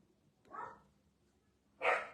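Two sharp barks from dogs in a home, the first fairly soft and the second louder, separated by roughly a second of quiet.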